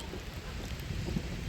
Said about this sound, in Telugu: చూడు వర్షం ఎలా పడుతుందో.